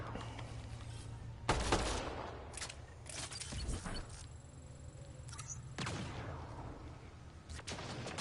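Sniper gunfire and explosive bursts in the Mass Effect: Andromeda video game, several sharp shots scattered irregularly over a low steady background hum, fairly faint overall.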